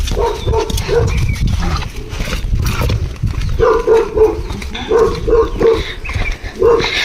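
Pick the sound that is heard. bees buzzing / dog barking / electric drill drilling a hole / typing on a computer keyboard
dog barking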